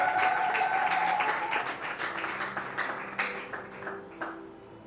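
An audience at a church gathering applauds as officials are introduced, a bright, crackling burst of clapping that slowly thins and fades out.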